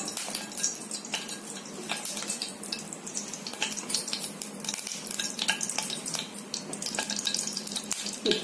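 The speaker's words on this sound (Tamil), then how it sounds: "ஸ்டவ் வந்து கடாயில் ஹீட் ஆயிட்டோடனே இப்போ எண்ணெய் விட்டுறோம்" Oil poured into a hot kadai on the stove, while cooking an oil-brinjal kuzhambu, gives a soft, continuous crackle and trickle at low volume, with no one talking.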